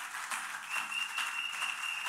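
A church congregation applauds together, a dense even wash of clapping that holds steady and fairly loud without any voices over it.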